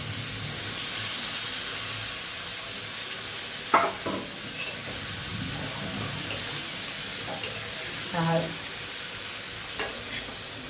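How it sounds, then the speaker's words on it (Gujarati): Chopped parwal, potato and onion stirred in a kadhai, a continuous close sizzle and hiss with occasional scrapes and clinks of the spoon against the pan. "બરાબર હલાવી દેવાનું બધું શાકને ઉપર નીચે કરી દેવાનું"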